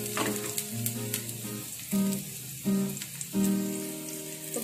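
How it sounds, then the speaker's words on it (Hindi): Chopped garlic and onion frying in a pan over a medium flame for chowmein, with a continuous close sizzle and crackle running under steady background music and no talking. "अब इसी में हम ये साथ में प्याज डाल देंगे, फ्लेम मीडियम रखेंगे।"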